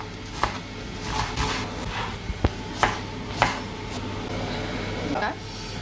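Onions and greens are chopped into small pieces on a board, with a handful of sharp, irregular knife knocks over a steady background hum and no talking.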